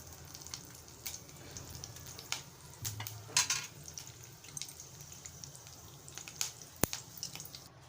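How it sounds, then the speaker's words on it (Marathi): Curry leaves crackle and sizzle in about two tablespoons of hot oil while a puffed-rice chivda is being made, a steady frying hiss with scattered sharp pops and spits close by, and no voices. "आता तेल गरमच आहे तर या गरम तेलामध्ये मी कढीपत्ता घालत आहे"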